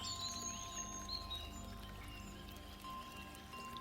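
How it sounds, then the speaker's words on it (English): Faint bird chirps and short tweets come from a distance over a steady low background hum. "Remember, you're only paying attention to the birds."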